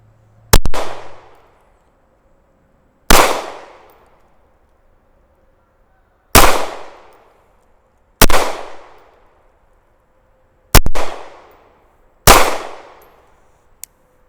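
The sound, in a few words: gunshots at steel shooting targets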